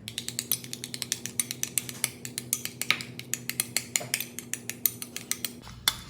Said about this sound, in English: Okay, and then let me stir it.